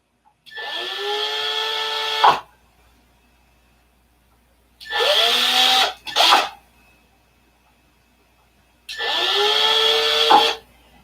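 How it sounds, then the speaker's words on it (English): A small $20 hobby drill from Walmart whirs in three close, loud bursts of a couple of seconds each, with a brief stutter in the middle run and silence between. "This is a little hobby drill that I bought from Walmart."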